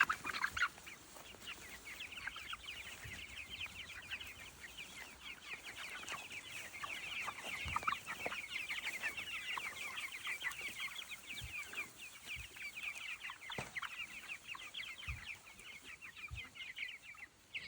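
A flock of chickens clucking and chattering in a food forest, a dense steady chorus of overlapping bird calls at moderate distance, fairly faint and continuous throughout.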